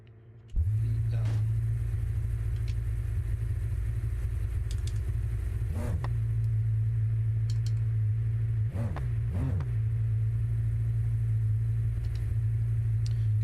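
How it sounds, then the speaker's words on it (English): A car engine in the BeamNG driving game starts and hums steadily at a low, droning pitch throughout, with a few brief rises in revs, while a person talks over it. "This is noisy, this car"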